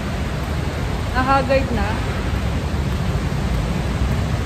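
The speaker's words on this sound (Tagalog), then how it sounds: "ang lakas ng ulan, grabe" Heavy rain pours down as a steady, loud broadband roar near a taxi parking area outside a mall, with a brief voice speaking partway through.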